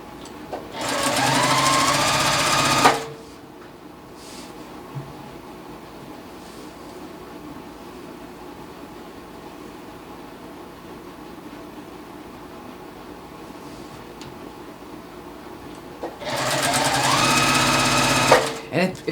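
A sewing machine chain piecing quilt blocks for a log cabin quilt runs in two loud, fast bursts of stitching at the start and end, with a long quieter stretch of room noise between.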